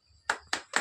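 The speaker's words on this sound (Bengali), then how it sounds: "হাততালি দেন।" Hands clapping at a flood relief donation gathering: three sharp, distinct claps spaced about a quarter second apart, close and fairly loud against a quiet background.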